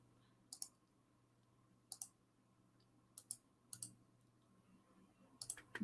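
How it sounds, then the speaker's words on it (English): Computer mouse clicking a link, heard as a handful of sharp, faint, close double clicks spaced a second or so apart over a quiet room hum. "we can actually click on this link now"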